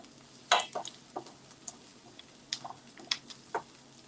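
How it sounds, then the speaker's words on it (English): Onions and garlic browning in a pan give a quiet, low sizzle, broken by several sharp clicks and scrapes of stirring, close and intermittent. "we are going to brown onions and garlic"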